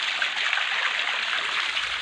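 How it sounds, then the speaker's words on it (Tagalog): Hot spring water flowing into a pool, a steady broadband rush of splashing water heard close and continuous with no talking. "dito nagmumula yung tubig sa paglalagay ng tubig dito sa pool na to"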